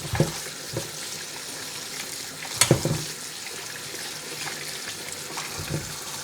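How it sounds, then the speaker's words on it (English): Running tap water rinsing muddy new potatoes in a kitchen sink, a steady splashing flow with a few louder knocks and clatters as the potatoes are handled. "They still got quite muddy, so first of all I'm going to give it a quick good wash because I'm not going to be peeling these things."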